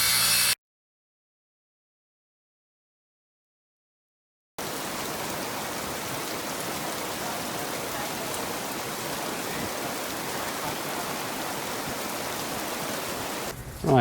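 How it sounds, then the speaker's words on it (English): Torrential downpour lasting over half an hour at a house-building site in the Philippines, a steady, dense hiss of heavy rain drumming on surfaces, loud and unbroken after a stretch of silence. "we're in the final throes of an absolutely torrential 30+ minute downpour"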